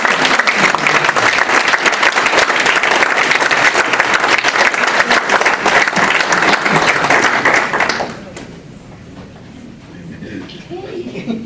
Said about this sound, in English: Please help us congratulate Terry Hemmert with a round of applause.